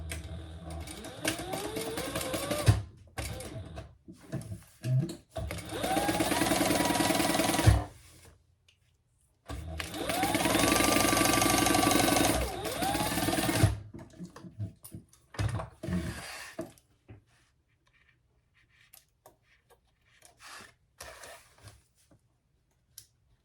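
A sewing machine bastes the top of a Scottie convertible bag closed, running in two long steady whirring bursts separated by short pauses, with handling clicks and rustles around them and quiet fiddling at the end.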